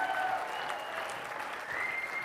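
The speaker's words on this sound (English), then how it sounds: "Round of applause for Carol Shockley running the whole show back here." An audience at a business networking event on stage gives a round of applause: dense, steady clapping that continues evenly for a couple of seconds, with faint tones ringing underneath.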